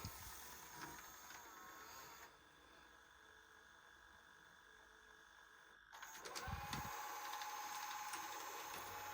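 Amstrad DD8900 twin VHS recorder mechanism ejecting a tape, heard as quiet whirring, clicking and ratcheting gear noise, fading midway and then returning with a louder clunk and motor run.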